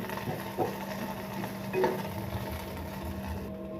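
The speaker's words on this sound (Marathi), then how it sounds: "कांदा छान भाजतो" Onions frying in oil in a pan give off a soft, steady sizzle with a few light stirring clinks and scrapes, fairly quiet and close, no talking.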